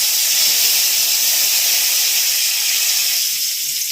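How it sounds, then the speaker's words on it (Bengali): A bay leaf dropped into hot oil in a wok gives a loud, steady hiss that runs unbroken and fades only a little toward the end. "তেল গরম হয়ে গেছে, তেজপাতা দিলাম।"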